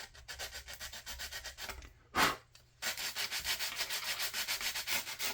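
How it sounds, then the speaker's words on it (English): Sandpaper rubbing rhythmically back and forth over a plastic 1/535 scale USS Iowa model ship hull, close and steady strokes, broken by a brief pause and one sharper scrape before the strokes resume. "We're just gonna sand all that smooth."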